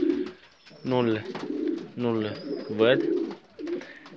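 Domestic pigeons preparing for a new clutch of eggs coo in a few low, rounded bursts close by, with someone speaking in between and over them.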